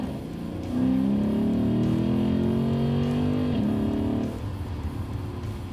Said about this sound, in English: Wake that glorious engine up with sport mode and a little throttle